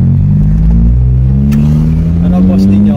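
A Nissan B14 car on a road test, its engine droning loud and close with pitch climbing steadily as it accelerates, with a brief click partway through.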